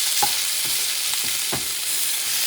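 Liver and onions sizzle steadily in a pan while a utensil scrapes and stirs through them in several distinct strokes, with no talking.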